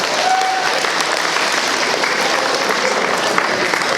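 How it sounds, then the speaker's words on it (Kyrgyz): Guests at a golden wedding anniversary celebration applaud together, a steady, full wash of clapping from a large crowd that holds evenly throughout, with faint voices mixed in. "Той бизге жакты деген коноктор бир кол чаап коюңуздар"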